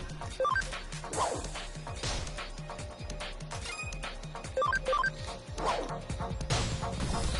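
A dog at home gives short yips and whimpers over and over through several seconds, fairly close over a busy background of game sounds.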